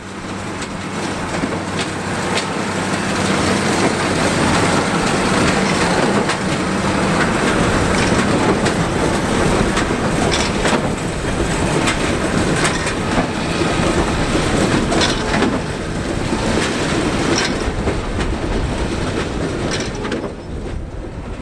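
A Case IH 8580 large square baler making 4x4 bales works through pea vines with a loud, continuous mechanical roar and rapid rhythmic clatter throughout. No voices are heard.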